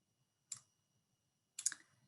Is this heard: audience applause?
no